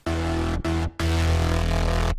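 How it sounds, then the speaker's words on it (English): A distorted electro bass synth preset plays three sustained, buzzy low notes, the first two short and the last held longer, loud and alone with brief gaps between them. "it kind of sounds like this electro bass synth."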